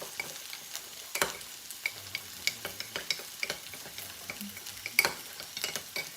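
A sauce slurry is being stirred in a bowl with a utensil, giving light irregular clicks and scrapes against the side. The taps are scattered and fairly quiet, with a brief louder knock now and then, and no voices.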